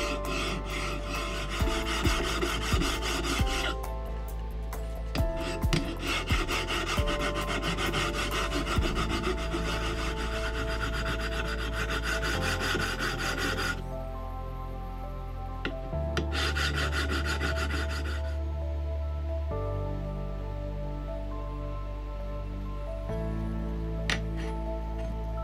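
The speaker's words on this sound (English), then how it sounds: "No matter how much I roll the file on top of the work, it rotates so that the file will still cut reasonably flat." Hand file cutting metal workpiece while making precision files with ancient tool techniques: repeated close rasping strokes in a steady back-and-forth rhythm, loud and alone, with later stretches of quieter scraping.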